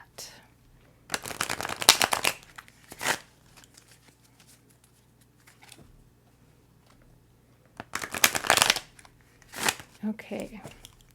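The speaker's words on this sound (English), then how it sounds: "I really feel like I need to be shuffling this." Tarot cards shuffled by hand in two main flurries of close, crisp papery riffling, each followed by a short separate burst of card handling, with quiet gaps between them.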